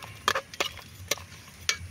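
A spoon stirs a coconut milk broth seasoned with sugar and salt, giving four brief, quiet scraping taps spaced irregularly over a faint background hiss.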